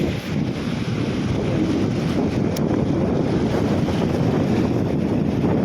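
A steady, heavy roar of wind and strong Mediterranean sea waves surging while a fishing net is hauled, constant and loud throughout, with wind buffeting the microphone.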